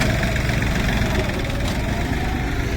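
A tractor engine idles steadily on a farm, a continuous low, even rumble that stays close and moderately loud with no talk over it.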